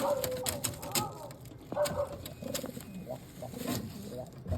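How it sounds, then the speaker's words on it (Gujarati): Pigeons cooing in soft, low repeated calls, mixed with scattered clicks and some background voices nearby. "એ કબૂતર હે"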